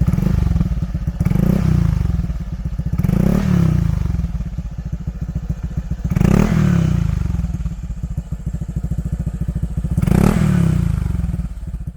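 A Honda ADV 150 scooter engine is revved in repeated bursts, about four throttle blips swelling and falling over a steady idle, loud and close with no talking.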